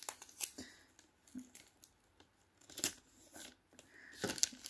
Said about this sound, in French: un bout de scotch